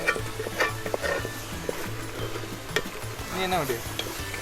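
Small onions sizzle in hot oil in a pan while a spoon scrapes and stirs them in irregular strokes, close and moderately loud, with brief background voices.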